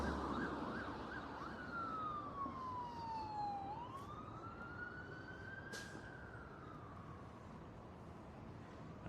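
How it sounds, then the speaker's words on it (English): A wailing ambulance siren sweeps up and down through a city neighbourhood, a yelp burst then long slow rises and falls, moderately distant over steady traffic rumble. "So we got an ambulance coming by."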